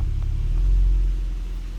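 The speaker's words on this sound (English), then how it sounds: "Car's moving back." A Kia Stinger backs up with a deep, steady low-frequency engine rumble close by, swelling slightly and then easing, with no voices over it.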